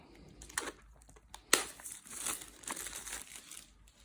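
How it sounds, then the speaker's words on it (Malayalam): Crinkling and tearing of packaging while an Apple product box is unboxed, with soft rustles, one sharp louder crackle and quieter scattered crinkles, close and fairly faint without speech. "നമുക്കപ്പോൾ ഇത് അൺബോക്സ് ചെയ്യാം"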